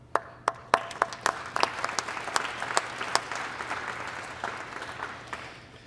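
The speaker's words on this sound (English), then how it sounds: "I want to just thank you and applaud all of you for what you do in your communities" Audience applause at a streets summit convention, with scattered distinct claps building into steady, moderately loud clapping from a large hall crowd, no voices over it.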